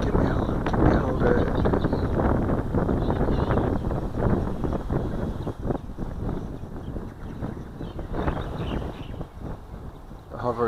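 Breezy outdoor wind buffeting a microphone while a Spitfire Micro model plane flies in Melbourne: continuous rumbling gusts that rise and fall, loud and close, with bursts of someone talking over them.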